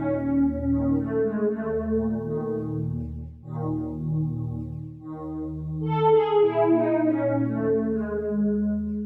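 A sustained Arturia DX7 synth pad shimmering with a warm analog chorus, chords shifting slowly and swelling brighter toward the end.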